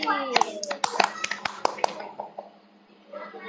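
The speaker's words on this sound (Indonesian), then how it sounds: "Beri aplaus" Children in a classroom give a short burst of applause for a classmate, quick close claps for about two seconds that fade out, with a voice underneath.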